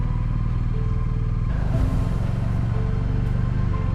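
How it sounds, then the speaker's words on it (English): Motorcycle engines rumble steadily close by as riders set off on a country ride, a continuous loud drone with shifting pitch and no voices. "Belly and Classic mounted the bikes and commenced the final part of their ride"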